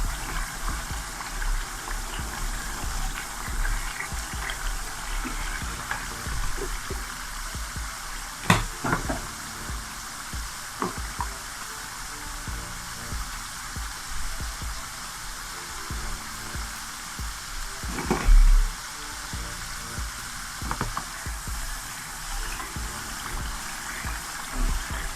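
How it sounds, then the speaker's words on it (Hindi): Masala spice paste for black chana curry fries in a pan with a steady, continuous sizzling hiss, broken by a few soft clinks of a utensil stirring. "मसाला भून लिया है मैंने।"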